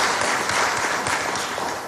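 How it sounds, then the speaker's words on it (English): Audience applause at a political address in Taiwan, a dense, steady wash of many hands clapping together that holds at full strength and eases off slightly near the end. "That's an applause line."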